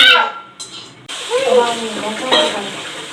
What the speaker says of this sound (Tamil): பாவக்காவை அவ்வளோ என்ன வதக்குற